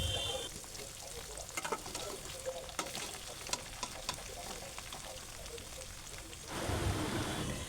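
Onion and green chilli fry in oil in a cooking pot as chopped bottle gourd goes in, a quiet continuous sizzle with occasional sharp ladle clinks and stirring, swelling louder near the end.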